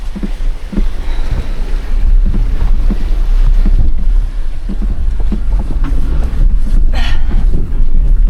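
An off-road vehicle drives through water on a rough trail, with a loud, steady wash of splashing and engine rumble heavily buffeted by wind noise throughout.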